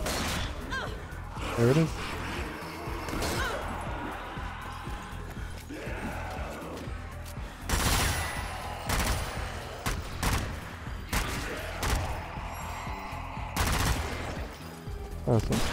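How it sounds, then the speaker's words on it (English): Scoped Gewehr 43 rifle shots and other gunfire crack through Zombie Army 4 combat, several loud, separate reports spread across the scene amid game noise, with someone talking over it. "It's a scope, rifle kill."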